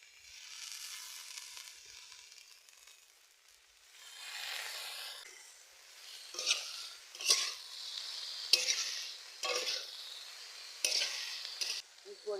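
Cut potatoes and washed dimer shak greens fry in a wok, producing a soft sizzle that grows louder, then a string of scraping stirs as the utensil moves through them, close and fairly quiet with no talking.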